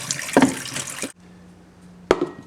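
Boiled potatoes tipped into a colander in a kitchen sink, a loud rushing pour of hot water for about a second, a pause, then a second short splash as the draining finishes.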